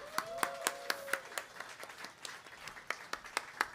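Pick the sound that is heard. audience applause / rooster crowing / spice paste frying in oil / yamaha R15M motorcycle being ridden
audience applause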